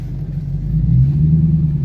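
Corvette pulling away in first gear, a loud low engine rumble swelling as it accelerates over a couple of seconds, heard alone.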